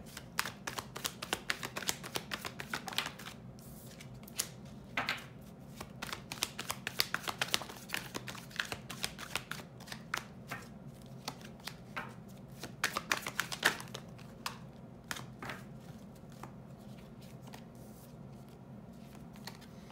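A deck of cards is shuffled by hand during a weekly guidance card reading, giving a steady run of dry, papery riffles and light flicks at close range with no talking.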